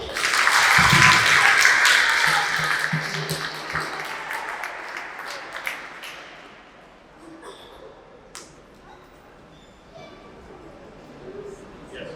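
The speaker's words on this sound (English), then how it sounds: "Another round of applause, please." An audience applauds a teacher honored for 50 years of service, loud dense clapping at first that thins and fades over several seconds, leaving scattered claps and room noise.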